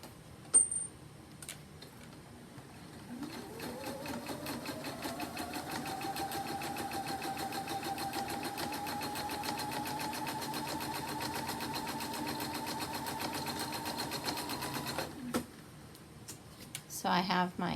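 A sewing machine stitches the face curve of an Olsen mask in one long, steady run that winds up and holds a buzzing whir, with a voice talking under it and handling clicks at both ends.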